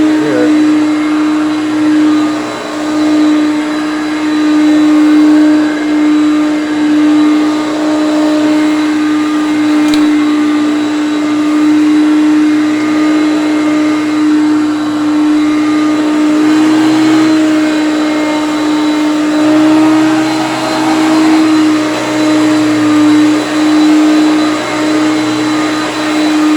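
A Hoover Concept One vacuum cleaner runs steadily while cleaning a floor, its loud, constant motor whine droning alone for the whole stretch with only slight shifts in pitch as it moves.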